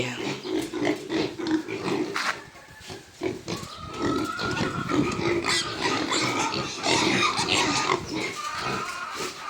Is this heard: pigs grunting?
yes